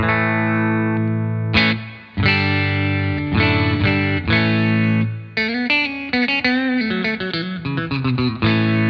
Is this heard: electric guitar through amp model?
yes